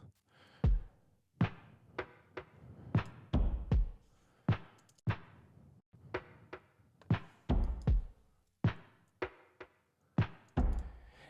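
Punchy electronic percussion hits in a loose, syncopated rhythm, deep thumps mixed with sharper knocks, loud and close with no voices.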